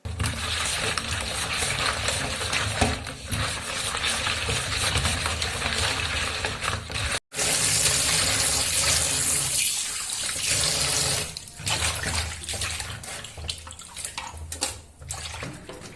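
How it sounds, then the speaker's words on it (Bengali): Fish rubbed with salt and washed under a running kitchen tap, a steady loud gush of water splashing continuously with brief interruptions and shifts in flow as the fish are stirred. "লবণ মিক্স করে মাছগুলোকে একটু নেড়েচেড়ে ধুয়ে নিব"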